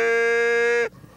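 A sustained, reedy buzzing tone from a Canada goose call as the reed breaks from low to high note, held steady for almost a second, then cutting off abruptly into near silence.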